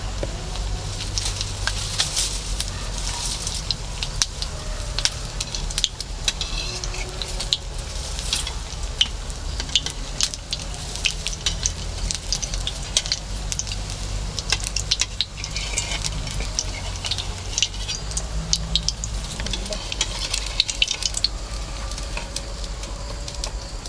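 A batter-dipped bread sandwich fries in hot oil in a kadai, giving a continuous loud sizzle with crackling pops and occasional stirring or turning noises over about twenty seconds; nobody speaks.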